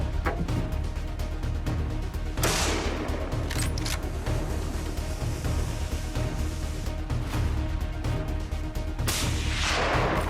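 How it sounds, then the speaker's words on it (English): Shotgun fire during a feral hog hunt: several loud, sharp blasts ring out at separate moments over a continuous noisy outdoor background, with no talking. "The use of shotguns is the first option they choose to deal with."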